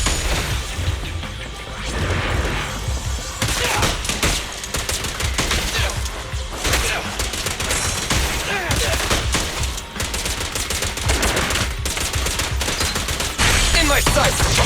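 Dense, sustained gunfire and crashing impacts from the action game Zenless Zone Zero, loud and continuous for the whole stretch with no pauses, layered with game music and effects.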